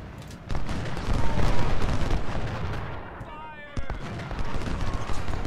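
Rifle volley fire from Civil War infantry in the Ultimate General: Civil War strategy game, dense crackling shots rolling in waves, with a brief lull and a sharp crack before the firing resumes.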